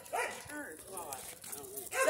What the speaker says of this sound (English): Look at that dog over there.